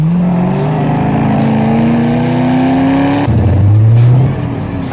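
A Nissan Silvia S14 drifts in GTA SAMP, its engine holding a loud, steady high-revving whine with tire squeal, then dropping abruptly to a lower rev before fading slightly, with no speech.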